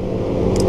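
Yamaha R15 V3 motorcycle with its exhaust revving, a steady loud engine drone held close by with no talk over it.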